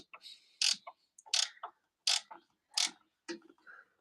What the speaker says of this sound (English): I'm just tightening them